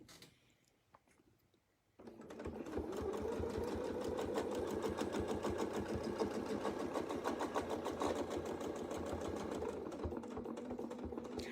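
A sewing machine stitches steadily around a circle guided by a Westalee Between the Lines circle ruler, a rapid even needle rhythm starting after a quiet opening and running close and loud to the end.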